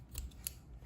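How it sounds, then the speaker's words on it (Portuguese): Sharp scissors snip through fabric cord strands for a handmade table necklace, giving a couple of crisp, close cuts in a quiet room with no talking. "Se você não tiver com uma tesoura muito boa, é melhor cortar um de cada vez"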